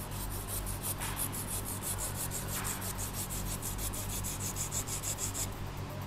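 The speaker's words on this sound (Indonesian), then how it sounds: "Kita gergaji." A hand saw cuts through porous ceramic biological filter media for a koi pond. The strokes are steady, rough and rasping, repeat for several seconds at close range, and no one speaks over them.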